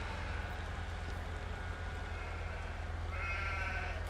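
Sheep bleat on a farm beside a steady low mechanical drone, the calls rising over a constant rumble.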